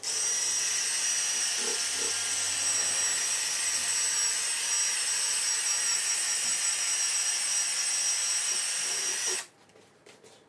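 A spinning sponge pad polishing a Williams Dirty Harry pinball playfield gives a steady, close, high-pitched whirring drone for about nine seconds before the tool cuts off into near quiet.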